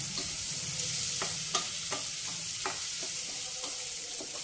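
Curry leaves and green chillies fry in a pan, with a steady soft sizzle, close up and faint, and occasional stirring clicks of a spoon against the pan.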